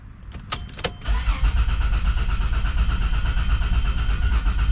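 A Toyota Land Cruiser FZJ80 cranks and fires up for the first time after a new fuel pump is fitted, with a few short clicks and a brief crank before the engine catches and settles into a loud, steady, close idle.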